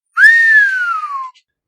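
A person whistles a single long note that slides up quickly, then glides slowly downward before stopping, clear and close in otherwise silent surroundings.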